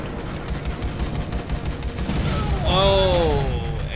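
Airstrike gunfire and explosions in the video game Dead Rising 4, a steady, dense rumble of automatic fire with blasts that swells louder in the second half, plus a rising whistling tone near the end.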